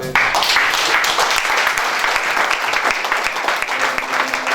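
A church congregation bursts into dense, sustained applause that stays loud and steady throughout, with many hands clapping together in a continuous roar and no voices standing out.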